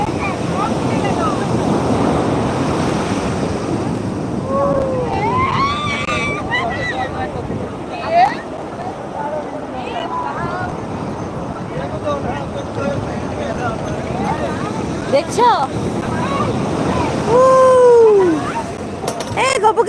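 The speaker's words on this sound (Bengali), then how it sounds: "ওই দেখো কত বড় বড় ঢেউ এসেছে দেখো না" Continuous roar of ocean surf breaking on the beach at Digha, with wind buffeting the microphone, as people talk and a high, meow-like voice breaks in now and then.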